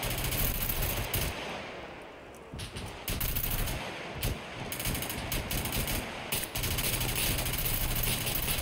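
Rapid bursts of gunfire and single shots in the survival video game Scum, loud and dense, crackling almost without pause across the clip with a brief lull near the start.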